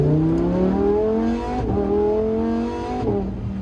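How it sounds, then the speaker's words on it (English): A Lamborghini Huracán STO accelerates on the Nürburgring racetrack, its engine note climbing loud and close through rising revs, broken by two brief gear-change dips. "just like when we're here, just accelerate a bit"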